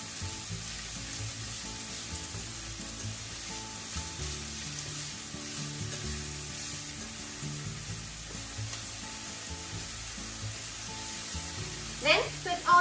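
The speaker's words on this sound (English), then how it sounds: "Stir fry it until bell pepper is wilted." Green bell pepper and chikuwa fish cake stir frying in sesame oil give a steady, continuous sizzle throughout, with a few louder stirring scrapes near the end.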